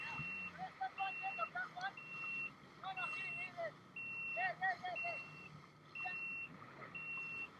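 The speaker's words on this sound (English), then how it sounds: "why is it beeping?" Repeated electronic beeps, short evenly spaced tones about once per second, sound from a jet ski in Dubai, moderately clear over faint background voices and chatter.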